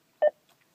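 A short single electronic beep from a BMW X5 E53's voice command system sounds after the voice input button is pressed, brief and clear inside the car, followed by faint clicks.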